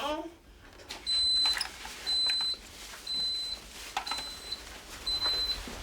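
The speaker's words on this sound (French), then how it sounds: "Ça va sonner, ça va biper pour le petit." An electronic ankle monitor sounds a series of five evenly spaced high-pitched beeps, each about half a second long, fairly close and clear over a quiet room background.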